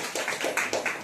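A congregation at a Sunday church service claps, a short run of quick, fairly quiet hand claps in an even rhythm lasting about a second, with no voices.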